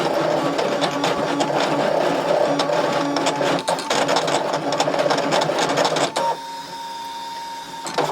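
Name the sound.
Brother ScanNCut machine cutting out printable images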